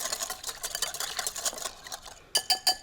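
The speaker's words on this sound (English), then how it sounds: "Just whisk it all together." Rapid rhythmic whisking of a dressing with pepper and minced garlic in a bowl, a dense fast clatter that pauses briefly before a few sharper strokes, close and alone.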